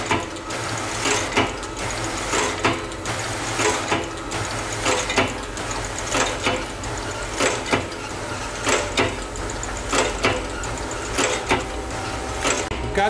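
A Brackett taping machine with an infeed conveyor and Longford feeder runs steadily, a continuous mechanical whir with regular clacking and ratcheting beats repeating about every second, close and moderately loud.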